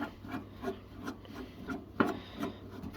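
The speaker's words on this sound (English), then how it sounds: "So we'll take the old trusty manual screwdriver." A manual screwdriver turning a screw out of a microwave casing, with repeated short scraping, rubbing turns and one sharper click near the end, close and fairly quiet.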